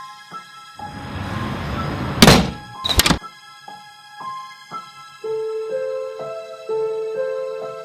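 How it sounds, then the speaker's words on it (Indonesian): A door pushed shut in a dramatised mystery story, heard as a loud close thunk with a second sharp knock soon after, followed by quiet tonal background sounds. "mendorongnya masuk, lalu menutup pintu."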